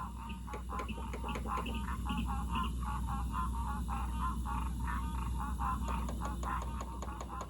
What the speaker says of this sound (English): Heard here along with a breeding chorus of green tree frogs.